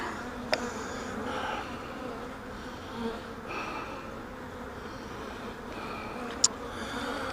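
Constant buzzing of many honey bees around a hive after a swarm, a dense insect hum with a couple of sharp clicks.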